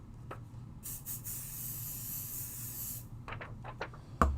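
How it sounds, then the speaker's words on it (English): A steady hiss of adhesive spray onto a stencil runs for about two seconds, followed by a few soft handling taps and rustles nearby. "I'm going to hit that with a little pixie spray"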